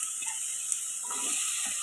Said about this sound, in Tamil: இப்போ வெங்காயம் வதங்கணும்.